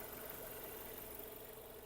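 A Renault Megane II engine with 156,000 km idles steadily with a smooth, even hum and faint vibration, quiet and constant throughout.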